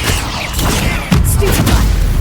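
A Confringo fire-blast spell explodes in the Hogwarts Legacy video game, a booming burst that lands about halfway through amid a loud, rumbling battle-effect bed, with no voices.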